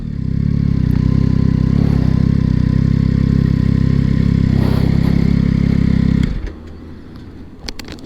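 Yamaha XSR900GP motorcycle engine running loud and close with a steady, throbbing note for about six seconds, then cutting off abruptly to a quiet background with a few faint clicks.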